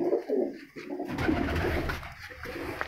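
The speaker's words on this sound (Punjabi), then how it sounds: "ਬਹੁਤ ਹੀ ਸੋਹਣੇ ਕਬੂਤਰ ਨੇ ਲਾਲ ਚੀਨੇ ਕਬੂਤਰ ਨੇ" Red Cheena pigeons coo in a steady, throaty run of low calls, close and fairly loud, continuing alone for a few seconds.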